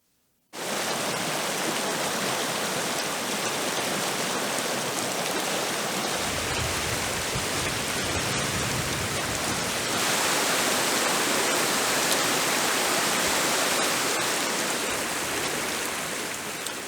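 A waterfall and rushing river in Colorado, a clear trout stream, roars as a loud, steady broadband wash that runs unbroken and grows slightly fuller partway through, with no voices.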